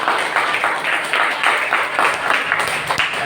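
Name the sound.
classroom applause for correct answer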